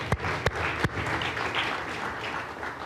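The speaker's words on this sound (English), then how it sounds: "let's give a big round of applause for Mayor Walsh" Audience applause for Mayor Walsh at the City of Boston Scholarship Ceremony, a few sharp separate claps at the start and then a dense, steady wash of clapping from a large crowd.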